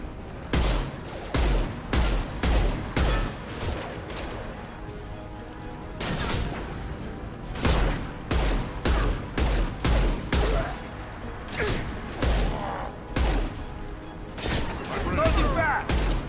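Rapid bursts of gunfire in Mass Effect 2, loud sharp shots in irregular volleys across the whole stretch, with a voice speaking between them.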